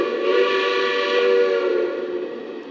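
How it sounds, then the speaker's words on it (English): A sustained steam whistle from a Lionel Vision Line Pennsylvania Class A model train sounds steadily for a few seconds with harmonic tones, fading slightly toward the end, with no voices. "this whistle is in some of my other legacy Pensy engines"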